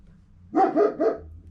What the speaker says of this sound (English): The dog in the background, sorry.